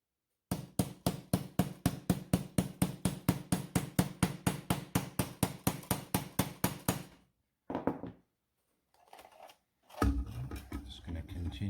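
Rivets hammered into thin cardboard armor made from a beer box: a long, fast, even run of sharp hammer taps, about thirty blows, then a pause and a few softer knocks and handling sounds.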